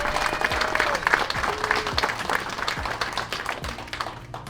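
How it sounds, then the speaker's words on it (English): An audience at an outdoor customer appreciation garden party applauds in a steady wash of clapping that fades slightly toward the end, with faint speech under it. "Let's give them all a round of applause if you don't mind."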